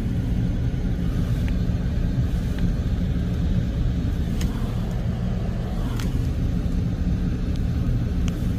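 The engine of a Buick Rendezvous runs with a steady, continuous low rumble, held at slightly raised revs with no clear peaks. It sounds close and fairly loud, and nobody speaks.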